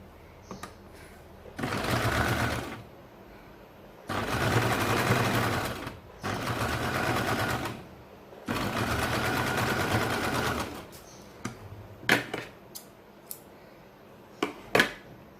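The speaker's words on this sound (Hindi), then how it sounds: "अब इसे अंदर के साइड में इसे फोल्ड करना है और ऊपर के साइड से इसे सिलाई लगानी है।" A sewing machine stitches a 1.5-inch strip on a baby circle frock in four steady bursts of about two seconds each, separated by short pauses and followed by light clicks and handling noises.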